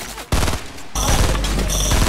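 Loud gunfire in the video game Fortnite Battle Royale: a sharp blast, then a sustained heavy burst of shots, close and dominant.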